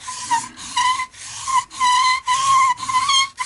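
Sanding a wooden saddle on a refurbished Hofner archtop acoustic guitar: repeated back-and-forth rasping strokes, about five passes with brief gaps, close and fairly loud with a whistling tonal edge.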